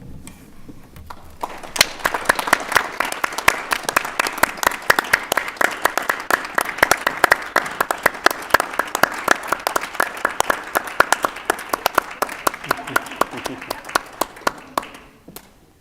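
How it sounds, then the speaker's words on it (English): Audience members at a school board meeting clap together in a sustained round of applause honoring a retiree, with distinct sharp claps rising after a quiet start and continuing steadily until fading at the end. "please accept the board's thanks as we rise and give you applause"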